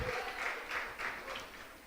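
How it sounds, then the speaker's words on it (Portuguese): A church congregation clapping in rhythmic bursts during a harvest festival service, soft and somewhat distant, with no talking over it. "Vocês podem aplaudir o nome do Eterno."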